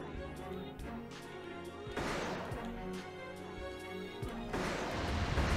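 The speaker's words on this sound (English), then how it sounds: "let's use the sniper rifle." Sniper rifle fire in the PS2 mech game Armored Core 3: two heavy, booming blasts a few seconds apart. Each one crashes loudly over a dense, continuous game soundtrack.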